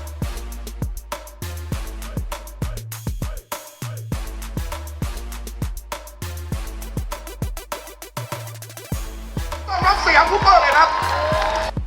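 A crowd at a youth basketball league orientation in Thailand cheers in a loud, noisy burst near the end, welcoming a team called Bangkok. Before that, a steady pounding music beat plays over the event.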